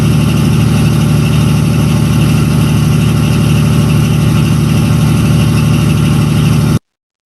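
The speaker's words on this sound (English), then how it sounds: "from a generator, gas generator, running in a stationary mode with a constant RPM" Gas generator running in stationary mode at a constant RPM, a loud, steady, low mechanical drone with an even pulsing hum that continues unchanged until it cuts off abruptly.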